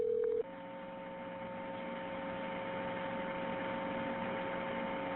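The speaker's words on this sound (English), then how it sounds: "the 911 emergency operators call the funeral home back to make sure everything is okay" Telephone tones as a 911 emergency operator calls a funeral home back: a short tone, then a steady electronic tone that holds on a faint hiss.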